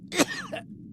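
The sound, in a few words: character coughing in a video game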